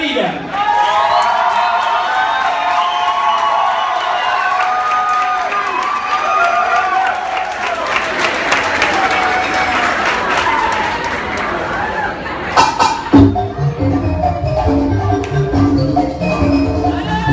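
An audience cheering, whooping and clapping for a singer at a live show, a loud sustained crowd roar with chatter, then music starting near the end.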